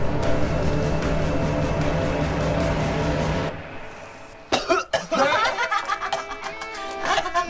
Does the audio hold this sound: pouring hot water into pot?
no